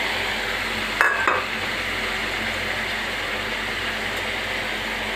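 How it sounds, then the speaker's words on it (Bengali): Egg mixture being stirred in a frying pan over a steady, even sizzle, with one short scrape of the utensil near the start. No talking. "এখন নাড়ছি এটাকে"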